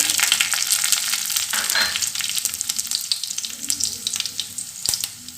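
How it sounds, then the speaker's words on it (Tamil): Mustard seeds and dried red chillies fry in hot oil for a chutney, giving a steady close crackling sizzle with sharp pops and brief clatter of a spoon, no voices. "இப்போ கடுகு நல்லா பொரிஞ்சிட்ருக்கு. இதில் ஒரு 3 வரமிளகாவை கிள்ளி வச்சுருக்கேங்க. இப்போ அதை சேர்த்துக்கலாங்க."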